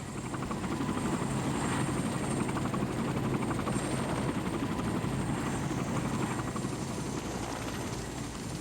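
Military helicopters in flight, a steady loud rotor thrum and turbine whine that holds at constant level throughout, with no talk.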